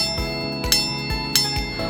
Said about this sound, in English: by ringing a bell